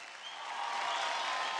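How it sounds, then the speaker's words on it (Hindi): Studio audience applause on an Indian televised dance competition stage, a steady broadband wash of clapping that swells slightly over the first half-second and holds loud and continuous to the end. "एक बार जोरदार तालियां हो जाए"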